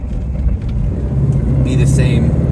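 A 1963 Porsche 356B on a test drive, its engine giving a steady, loud low rumble throughout under a continuous road and cabin drone, with a few faint higher rattles near the end.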